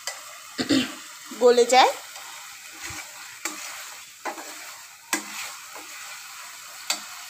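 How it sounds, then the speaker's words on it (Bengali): A spoon stirs onions frying in a pan with fish curry spices, producing intermittent scraping and soft sizzling bursts, with someone briefly speaking. "আমি আরেকটু নেড়ে চেড়ে নিচ্ছি ভালো করে, পেঁয়াজগুলো যাতে"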